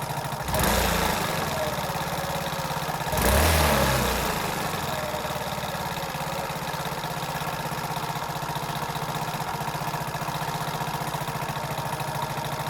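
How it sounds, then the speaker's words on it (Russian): Four-stroke scooter engine after carburetor tuning, idling steadily with two short throttle blips early on that rise and fall back, then a long even idle with a constant low rumble, close and alone. "Прогазовкой проверяем, не глохнет ли двигатель."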